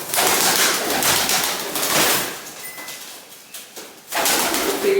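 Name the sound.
rescued pigeon cooing while mating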